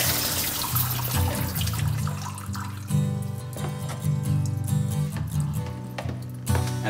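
Giant lima beans are drained through a kitchen strainer, with water splashing and gurgling close by in uneven surges and spatters, heard alone without talk.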